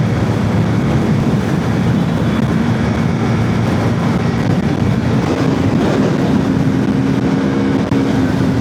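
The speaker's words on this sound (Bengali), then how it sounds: "একশো প্লাস গতিতে চলতেছে বাইকের ভাইব্রেশন" A loud, steady engine drone with constant rushing wind noise from a Hero Xtreme 160R 4V motorcycle riding at over 100 km/h on the highway, unbroken throughout.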